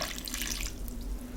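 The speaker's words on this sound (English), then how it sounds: "I'm going to pour in cold water and then I will leave it for 2 hours." Cold water pours steadily from a tap into a bowl of flour dough, a continuous close splashing rush with no voices.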